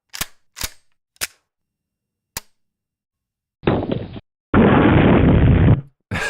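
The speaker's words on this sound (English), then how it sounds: "That's supposed to be a shotgun." Shotgun dry fire effect: four sharp, dry clicks spaced about a second apart, then two short bursts of louder racking noise and a final snap, all close and isolated with no talk.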